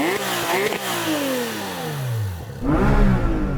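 A Porsche 911 GT3 RS 3.8-litre engine with a titanium exhaust blips sharply, its pitch falling as the revs drop, then snarls up again in a loud, raspy burst close by.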